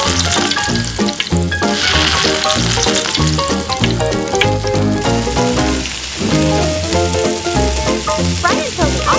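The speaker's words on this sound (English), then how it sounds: "Heat a pan with cooking oil. One by one, drop the octopus into the pan." Octopus pieces frying in hot cooking oil in a pan, a loud, dense, continuous sizzle and crackle with steady spitting throughout, no voices.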